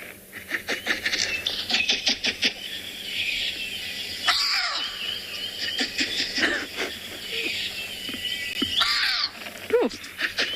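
A recorded bateleur eagle call is played outdoors on a South African safari: harsh, raspy barking cries repeat in bursts over steady background hiss, with a couple of louder calls standing out near the end.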